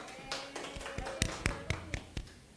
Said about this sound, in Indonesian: Tepuk tangan untuk kelompok Silmi